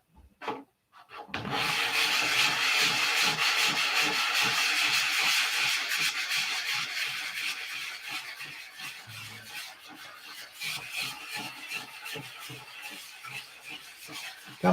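Steady rasping of sandpaper on a model aircraft body, continuous close-up scraping strokes for most of the stretch after a brief quiet start, gradually easing in loudness toward the end, with no talking.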